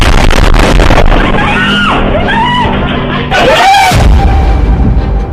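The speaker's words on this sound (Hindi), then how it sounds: "इजराइल की राजधानी तेल अवीव में फटा बम।" A bomb blast in Tel Aviv heard as a loud, chaotic roar with booming bursts, while people scream and shout nearby before a second heavy impact rumbles out.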